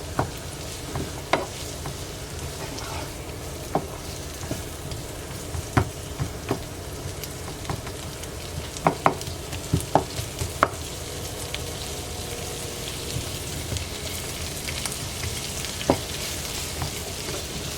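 One medium onion fries in a tablespoon of butter in a pan, giving a steady soft sizzle with occasional sharp clicks and taps from stirring, close and without speech.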